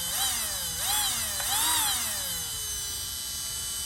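A small brushed electric motor in a Radio Shack RC Hummer being broken in whines steadily and close, its pitch swooping up and down several times as the throttle changes, then settling into a lower, even drone.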